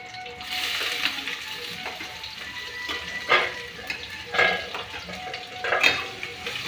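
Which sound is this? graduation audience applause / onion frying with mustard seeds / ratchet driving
onion frying with mustard seeds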